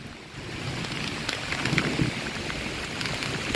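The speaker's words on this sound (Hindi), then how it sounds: "बारिश के साथ साथ गजगोड़ भी हो रही है और हवा भी तेज़ है" Steady heavy monsoon rain hisses with a broad rushing wind, a constant wash of noise with faint scattered patters and gusts.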